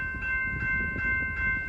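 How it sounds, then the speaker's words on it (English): A train comes off the Mobile line at Amory, Mississippi, on a hot August evening, with a low, steady rumble and a sustained, ringing horn-like tone held over it. "here comes a train off the Mobile line"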